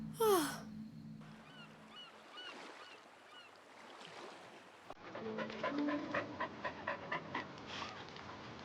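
A dog pants in quick, breathy rhythm, close and moderately loud, with soft background noise and a brief higher yelp at the start.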